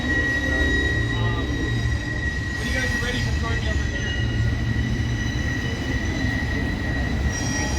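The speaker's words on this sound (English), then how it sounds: "Sorry about that train. I know it's bad." A train rumbles past near the grassy knoll in Dallas, a steady loud roar with a high wheel squeal running throughout, while a tour guide speaks over it.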